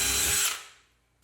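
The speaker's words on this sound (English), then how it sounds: "we're going to drill that hole all the way through the brass piece, making sure we're at the right diameter for our rivet" A power drill bores a rivet hole through a brass piece for a kayak outfitting upgrade, a loud close whine that holds steady and then winds down and fades out.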